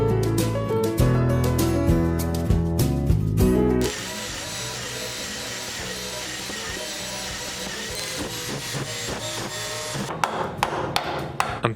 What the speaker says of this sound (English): I'm tapping the screws to transfer their locations.